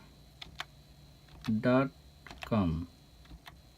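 Someone types a web address on a computer keyboard, sounding as scattered light key clicks interrupted by two short bursts of a person talking.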